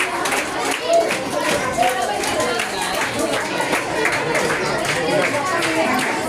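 Audience clapping at a school prize-giving ceremony, steady, dense and continuous throughout, with crowd chatter mixed in.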